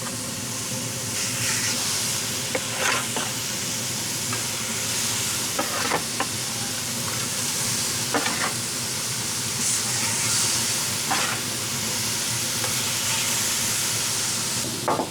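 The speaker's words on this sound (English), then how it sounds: "Now listen to that sizzle." Hamburger steaks sizzle loudly and steadily on a hot flat plancha griddle, with occasional scraping taps from a spatula.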